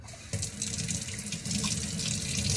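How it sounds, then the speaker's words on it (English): Water runs from a tap onto greens being washed in a sink, a steady close gush that starts abruptly and keeps flowing without talk. "I should probably wash it first, right?"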